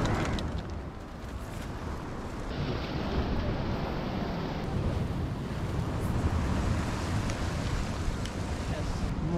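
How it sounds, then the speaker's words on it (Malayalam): Ocean surf and gusty wind on Chethi beach in Kerala, a constant rough roar with wind buffeting the microphone, waves washing in steadily and close throughout. "നമ്മളിപ്പോ ഉള്ളത് ചെത്തിക്കടപ്പുറത്താണ് കേട്ടോ"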